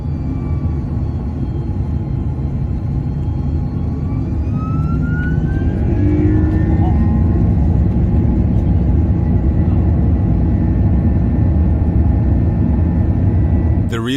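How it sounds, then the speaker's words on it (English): Finnair Airbus A330 engines drone and rumble in a loud, steady roar during a go-around at Copenhagen Airport, with tonal whines sweeping upward as thrust builds over constant wind noise. "This Finnair Airbus A330 was approaching Copenhagen Airport but was forced to go around."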